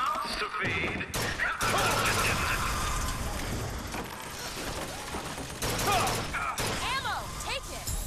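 Rapid carbine gunfire in the video game BioShock Infinite, loud dense bursts with crashes and mechanical clatter filling most of the stretch, mixed with game effects and brief voices.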